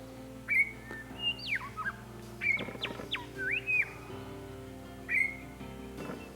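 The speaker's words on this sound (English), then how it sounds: "foraging is disrupted with the call of a young fledgling" A grey shrike-thrush fledgling repeatedly calls with clear, rising and falling whistled notes, several phrases spaced a second or so apart, fairly close.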